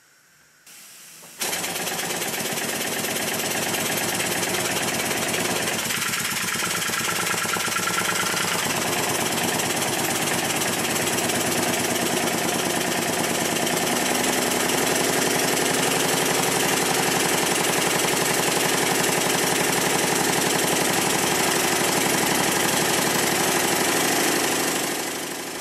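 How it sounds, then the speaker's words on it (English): A Stuart triple model steam engine runs on compressed air, switching on after a brief quiet start into a loud, continuous fast mechanical chatter and hiss that holds steady to the end. "with a small amount of air once again entering the engine"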